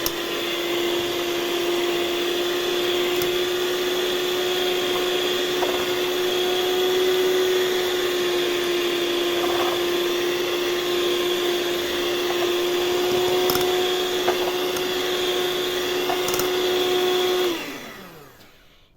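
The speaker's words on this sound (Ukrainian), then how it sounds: "Ми просто збиваємо 5 яєць." An electric mixer whisks five eggs for a sponge cake in a wide bowl, a loud steady motor whine with constant pitch running alone for about seventeen seconds before winding down and stopping.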